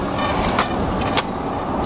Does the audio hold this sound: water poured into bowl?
no